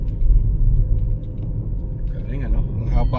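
Traffic on a newly opened road network in Cavite, with a steady low rumble of cars passing nearby and a rising engine note toward the end, mixed with people talking.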